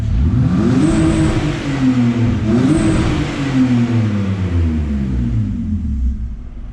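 A BMW E46 engine rumbles and revs steadily up and down with the muffler removed, the exhaust deep but fairly muffled by the catalytic converters, close by with no talking.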